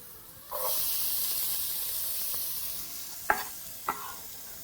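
Garlic sizzles steadily in a hot pan for a cooking stew, a bright continuous frying hiss that rises sharply and holds near and loud, with two brief clinks of a utensil against the pan near the end.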